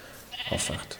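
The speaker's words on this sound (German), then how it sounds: "man hört jetzt die Schafe im Hintergrund böken" Sheep in the Minecraft video game bleat faintly in the background in a short burst, overlapping the tail end of a man's speech.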